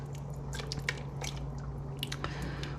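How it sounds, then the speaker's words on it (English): Vegan chili with oil-cured olives, sun-dried tomatoes and Hatch chiles is stirred vigorously in a pot, giving wet squelching and sloshing with a few soft knocks of the spoon, close and fairly quiet over a low hum. "Give it a vigorous stir. Make sure everything's blended together."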